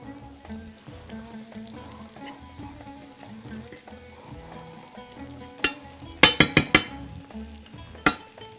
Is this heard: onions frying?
yes